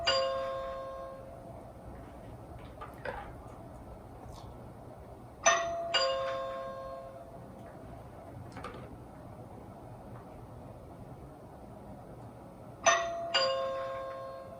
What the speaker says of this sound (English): now we're doing knocking sounds and doorbell sounds right next to the door